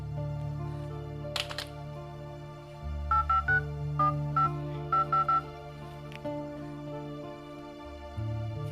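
A mobile phone plays a run of short, evenly spaced keypad dialing tones in small bursts, clear and close over a low steady background hum, with no one talking.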